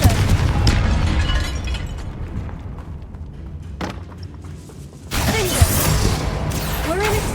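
A Confringo fire spell blasts off in Hogwarts Legacy inside a tomb, giving a loud burst that rolls into a rumbling tail amid a dark echoing space, with a second bright, crackling eruption several seconds later.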